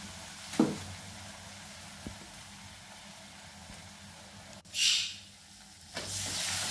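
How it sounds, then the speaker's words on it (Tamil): Eggs poured into a hot pan beside vegetables for mushroom fried rice, giving short hissing sizzles and a louder sizzle burst near the end over a quiet kitchen background, with no talk. "அந்த காயெல்லாம் கொஞ்சம் ஓரமாக தள்ளி வச்சுட்டு முட்டையை அதில் ஊற்றி"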